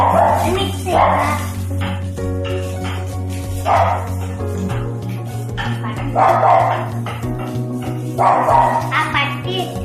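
A dog barks repeatedly outdoors in short bursts every couple of seconds, heard beneath a person talking nearby in a home kitchen.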